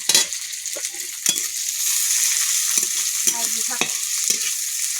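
Garlic cloves sizzling in hot oil in a pan, with occasional stirring scrapes breaking through a steady, close frying hiss; no talking.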